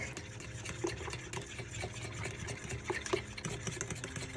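A fork beats banana fritter batter in a bowl for Jamaican banana fritters, making rapid, even clicking and scraping strokes close up with a soft wet sloshing underneath.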